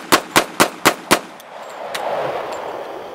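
Five sharp .45 ACP pistol shots fired at night ring out in a quick, even sequence, loud and close, followed by a fading rumble of echo.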